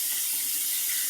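A tap runs steadily at a sink to rinse during a straight-razor shave, a close continuous hiss of flowing water with no breaks and no talk.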